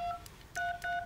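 Keypad key tones from an LG V60 phone, three short beeps in quick succession, clear and close with no talk.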